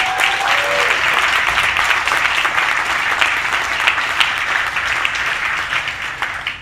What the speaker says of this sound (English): Let's give Claudio a big round of applause.